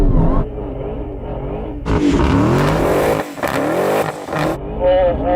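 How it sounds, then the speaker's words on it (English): Dodge Challenger Demon with line lock engaged, revving hard in a tyre-warming burnout: a low idle rumble swells into a loud, sustained roar with repeated throttle surges and high tyre-squeal texture, close and continuous. "Activate line lock, right. Press and hold, release brake, apply throttle."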